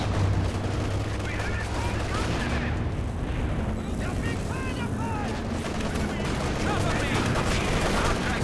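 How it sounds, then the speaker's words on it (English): An IL-2 bombing strike in the video game Company of Heroes 2 pounds a battlefield with a dense, continuous barrage of explosions and gunfire, loud throughout, as a commentator talks over the din. "IL-2 bombing strike."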